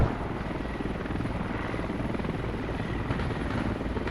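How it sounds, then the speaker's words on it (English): A helicopter drones in the military video game Squad, a loud, steady rotor thump and engine roar that stays constant throughout without speech. "Make sure the chopper doesn't see them."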